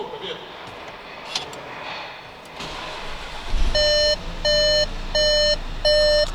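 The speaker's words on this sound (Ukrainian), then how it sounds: "Так, і запускаємо двигунець." A Skoda Kodiaq engine starts after an oil change and settles into a low, steady idle, while the dashboard sounds four evenly spaced electronic chimes close by.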